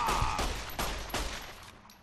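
Gunfire in Fallout New Vegas, where a 12-gauge shotgun is in use at the Topps Casino: several loud, close blasts at irregular intervals, each with a decaying tail, and no talking.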